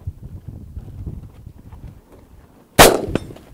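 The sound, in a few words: AR-15 rifle shot fired off hand at 300 yards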